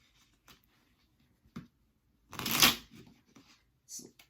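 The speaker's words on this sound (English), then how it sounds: "Just shuffling cards." Tarot cards are shuffled in a few soft, scattered riffles, with one louder, fuller riffle in the middle, in an otherwise quiet room.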